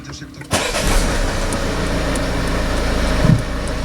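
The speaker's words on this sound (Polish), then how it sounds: "Natomiast już kolejne odpalenie powinno być bezproblemowe." A 2.0 BlueHDI diesel car engine cranks and catches after a filter and oil change, then settles into a steady, loud idle rumble close by.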